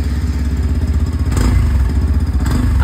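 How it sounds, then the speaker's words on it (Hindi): A 2024 Yamaha FZS V4.0 motorcycle idles close by, its exhaust giving a steady, loud, pulsing low thrum with a light mechanical clatter and a slight rise in intensity midway. "गाड़ी ऑन करते हैं और आपको सुनाते हैं इसके एग्जॉस्ट का साउंड।"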